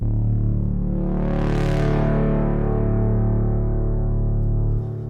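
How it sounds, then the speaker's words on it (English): A thick, detuned Reese synth bass drone holds steady, washed in a long big-room reverb tail that spreads and blooms before cutting off near the end. "So we want a lot of reverb on our Reese"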